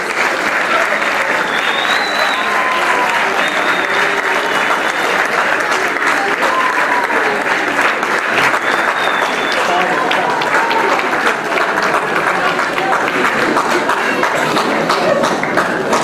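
A large audience at a school excellence awards night gives university students a long, loud, sustained round of applause, dense clapping holding steady throughout with faint crowd noise beneath.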